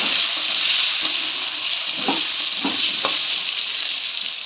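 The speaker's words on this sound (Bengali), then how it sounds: "যে আলুগুলো কেটে রেখেছিলাম সে আলুগুলো দিয়ে দিলাম আলুগুলোকে লাল লাল করে ভেজে নেব" Cut potatoes browning in hot oil in a pan for a prawn curry, a loud, close, constant sizzle broken by several soft scraping stirs of a spatula, with no voices.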